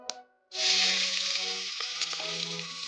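Chopped onion dropped into hot oil with cinnamon, bay leaf, cardamom and cloves bursts into a loud, steady sizzle after a brief sharp clink, holding a broad hiss close by with no talk.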